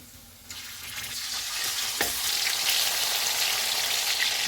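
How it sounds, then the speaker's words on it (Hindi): Mutton chunks with ginger garlic paste sizzle and fry in a pan, a dense steady crackle swelling after a quiet moment and holding close and even, with an occasional stirring scrape. "चूल्हे को फुल रखेंगे और इसको 4 से 5 मिनट तक भूनेंगे।"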